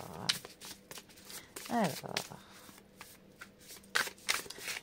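Lenormand fortune-telling cards shuffled in bursts of close riffling and flicking, with a voice speaking at the same time.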